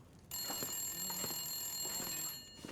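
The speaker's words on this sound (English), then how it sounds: "and the phone ringing" A telephone rings in the video game The Long Dark Wintermute, a close electronic trill in repeated bursts, clear and alone without talking.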